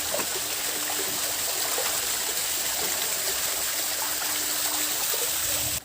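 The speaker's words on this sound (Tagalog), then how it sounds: "May talon na maliit." A small mountain stream with a little waterfall rushes and splashes steadily, a close, continuous watery hiss with no break, heard alone without talk.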